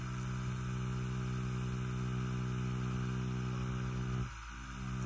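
A tattoo machine runs in a steady, close electric buzz and hum with a constant tone, briefly dipping near the end, and nobody speaks.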